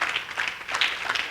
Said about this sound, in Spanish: denle un aplauso al Señor en esta noche